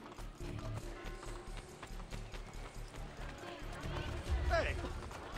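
Rhythmic hoofbeats of a galloping horse in the video game Assassin's Creed Brotherhood thud steadily under a voice, with a brief whinny near the end.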